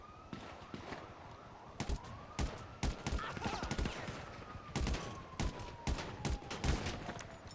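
Repeated bursts of gunfire in a Grand Theft Auto V Online firefight, sharp cracks and volleys coming in irregular clusters, with a siren wailing underneath throughout.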